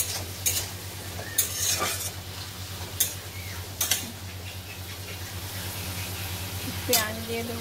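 Onion fries quietly in a pan with a soft, steady sizzle, broken by a handful of sharp scraping clicks as a utensil stirs and knocks against the metal; a faint voice is heard briefly.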